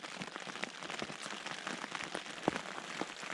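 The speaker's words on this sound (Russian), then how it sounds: "Дождь снова усилился." Rain falls steadily and softly on a surface outdoors, a dense patter of drops during a long downpour in the Altai mountains.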